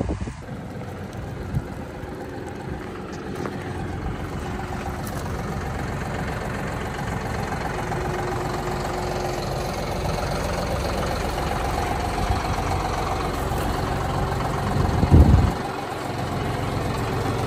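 A heavy tractor engine idles steadily for a long stretch on a pasture farm, a low rumbling drone with a brief louder knock near the end.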